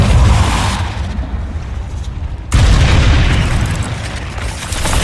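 Depulso force spell impacts in Hogwarts Legacy on PS4 Pro, heard as loud, dense booming blasts: one sustained roaring burst, a brief drop, then a second heavy boom that rolls on, close and with no talk.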